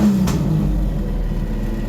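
A car engine rumbles loud and close on a dyno during a pull, holding a low, steady drone throughout with no talk.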